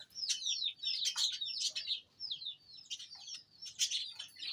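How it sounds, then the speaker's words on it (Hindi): Chickens gathering to eat freshly scattered feed, giving repeated high chirps and soft clucks in short overlapping bursts, close by with no talking. "अभी मुर्गियों को डाला जी, वो खाने के लिए आ रही हैं आहिस्ता आहिस्ता।"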